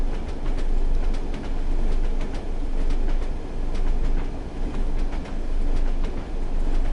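A train rolls steadily along the rails in Train Sim World 2, a continuous loud rumble carrying a regular clickety-clack of wheels over rail joints, with no voices.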